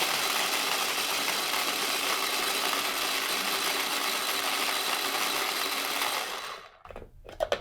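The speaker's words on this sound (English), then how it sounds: "I'm using a little food processor today." A small food processor whirls cilantro pesto ingredients in a loud, steady, close-up burst lasting about six seconds, then the motor cuts off and a few faint knocks follow.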